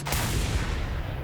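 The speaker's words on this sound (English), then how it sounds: "It's the part where I use the shotty against the driver." A shotgun blast fired at a driver in a violent driving video game, opening with a sharp loud boom that rolls into a dense, sustained rumble of gunfire and game noise with no gaps.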